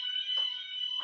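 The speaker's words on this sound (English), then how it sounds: "fire alarm is going off here. It's in the building next door." A fire alarm sounds from the building next door, a steady shrill electronic tone heard at a moderate distance, with brief soft rustling noises under it.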